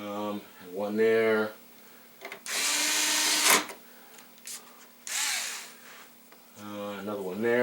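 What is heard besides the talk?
power drill driving screws back into a TV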